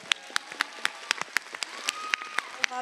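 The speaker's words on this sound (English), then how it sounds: "Give her a round of applause." Scattered, sharp claps ring out at a steady pace over a soft background hiss, a sparse round of applause from an audience at Comic Con Wales 2023.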